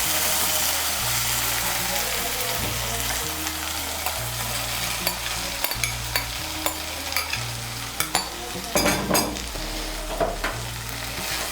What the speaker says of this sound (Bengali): ঢেঁড়সগুলোকে মিশিয়ে নেব মশলার সঙ্গে।